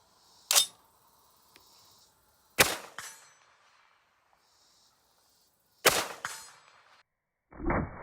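Three sharp, loud shots from a GA Precision GAP-10 rifle with a muzzle brake at an outdoor range, each followed by a short ringing echo, with a fourth sound cut off at the end.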